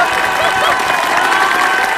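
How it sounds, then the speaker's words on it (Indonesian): Loud crowd applause and cheering from a TV game show studio audience, a dense, steady wash of clapping and shouts, children's voices among them, filling the whole moment. "Tepuk tangan untuk Ajeng dong."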